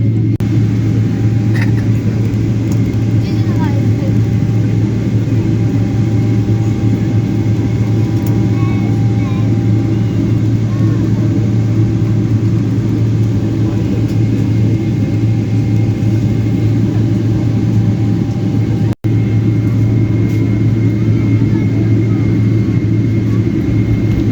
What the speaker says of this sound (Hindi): दोनों इंजन स्टार्ट हो गए हैं